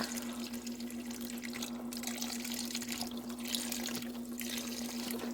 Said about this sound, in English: I'm gonna pour half of the box up in there.